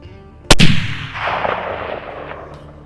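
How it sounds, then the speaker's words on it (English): A single loud rifle shot fired at a mule deer during a Colorado hunt, a sharp close crack followed by a long rolling echo that fades across open terrain. "I actually ended up shooting 3 times up on top just to put him down"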